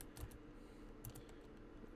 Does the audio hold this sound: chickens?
no